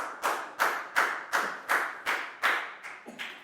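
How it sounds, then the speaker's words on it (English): A classroom of students claps for a classmate in roughly nine distinct bursts, each a sharp onset fading quickly, steady and fairly close. "Big round of applause for Lakgao, please, guys."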